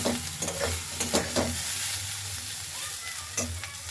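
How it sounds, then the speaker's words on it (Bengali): Rui fish rubbed with salt and turmeric sizzles steadily in hot oil, a continuous close crackle with occasional louder spits and soft stirring scrapes, no talking. "এটাকে এখন নুন আর হলুদ মাখাবো, দিয়ে ভাজতে বসাবো"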